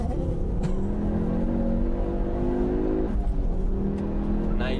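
Ford Focus RS engine pulling hard at rally pace, a loud steady roar with rising pitch through the gears and a brief shift dip partway, close and continuous throughout.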